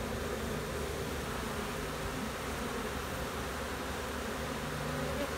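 Honey bees buzz steadily around an open hive during a fall inspection, a dense, continuous insect drone close by with no talking.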